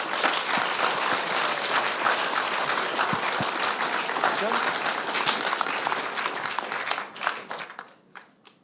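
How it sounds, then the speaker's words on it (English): A conference audience at a national advocacy event applauds, dense steady clapping that fills the room for several seconds before thinning into a few scattered claps and fading out. "I think a round of applause for those comprehensive answers."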